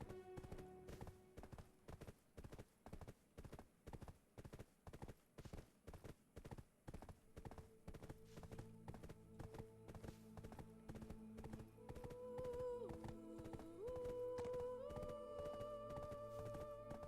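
Horse hooves clip-clop steadily in the Black Desert video game, a regular rhythmic beat over layered game music, with an occasional faint whinny.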